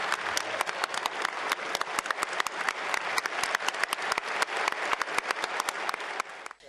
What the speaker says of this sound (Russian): В зале раздаются продолжительные, оглушительные аплодисменты.